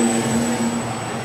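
A large foam scale model of a P-61 airplane with an 84-inch wingspan flies indoors, its electric propeller motors giving a steady, loud droning whine with a high pitched tone throughout.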